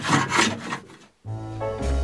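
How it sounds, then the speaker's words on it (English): Trimming the 4mm overhanging edges of a wooden chest lid, heard as a few close, rough scraping or rasping strokes on wood, with a brief pause midway before the cutting sound resumes. "the next job I'm going to do is trim down these edges because they have about a 4mm overhang from the actual lid"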